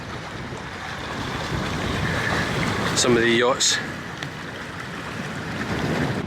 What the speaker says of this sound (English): It is still very windy, so apologies, I'm trying to block out the wind as much as I can